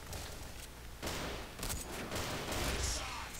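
Bursts of rapid gunfire crackle in quick clusters in the online shooter CrossFire, mixed with game sound effects, fairly loud and dense throughout.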